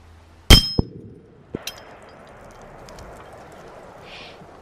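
A 30-06 rifle fires a sharp, loud crack, and about a second later a short metallic ping rings off an AR500 steel target. Faint outdoor background noise follows.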